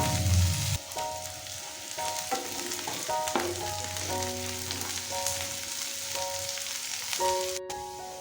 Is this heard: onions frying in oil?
yes